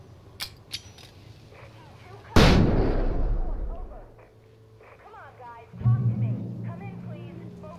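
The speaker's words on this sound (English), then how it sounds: "Flash bombası." A flashbang grenade bursts in the video game Alan Wake Remastered with one loud, sharp blast that fades into a rumbling tail over a couple of seconds. Brief clicks come before it, and voices speak afterward.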